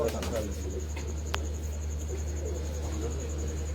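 Pigeons at a racing pigeon loft in Karachi coo softly amid a steady low background hum, with people talking nearby throughout.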